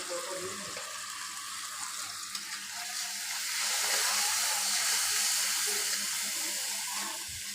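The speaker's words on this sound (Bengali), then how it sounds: "মশলাটা আমি এখন খুব ভালোভাবে কষিয়ে নেব" Ground spices, cumin, coriander, turmeric and chili powder, along with green chilies and salt, sizzle in hot oil while being stirred, a steady close hiss that swells louder midway, with no voices.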